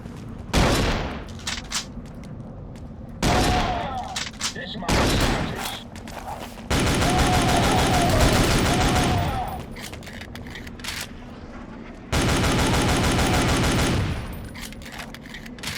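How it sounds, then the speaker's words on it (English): Assault rifle fire from the World War Zero (Iron Storm) shooter rattles in repeated loud bursts, some short and some sustained for a few seconds, separated by quieter gaps with game ambience. "This assault rifle is really good."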